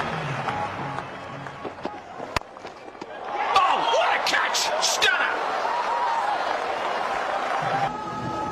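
Cricket crowd rising to applaud an extraordinary innings, the fastest hundred by a New Zealander, a broad wash of clapping and cheering that swells after a few seconds and holds steady, with a commentator's voice over it.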